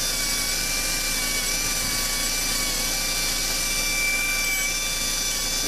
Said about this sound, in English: This particular Scotch-Brite's about half wore out, so it's not super aggressive.